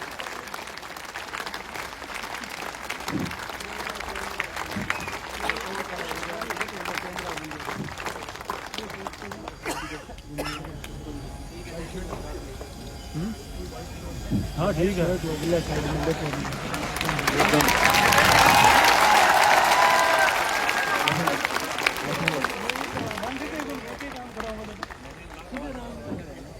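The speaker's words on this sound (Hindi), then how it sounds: "आपकी तालियां रुकनी नहीं चाहिए" Sustained applause from a large crowd at a motivational talk in Suratgarh, steady clapping that swells louder toward the later part before easing off, with a brief spoken remark in Hindi and some background chatter.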